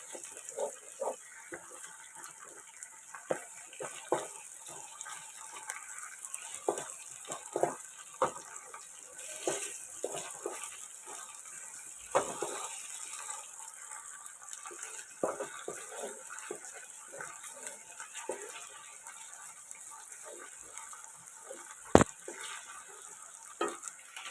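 Ginger garlic paste frying in a pot for beef kacchi, with scattered soft sizzles and scraping stirs over a steady faint hiss, moderately close and without talk.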